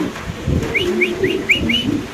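An American pigeon coos in a short series of soft, rounded calls, close by and fairly clear, with a faint background murmur but no speech.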